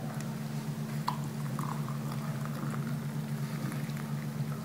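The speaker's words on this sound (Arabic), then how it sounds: "بعدين نجيب الماء الحار" Hot water poured for tea over loose tea leaves, a soft steady bubbling, trickling stream with a low hum beneath, faint and continuous.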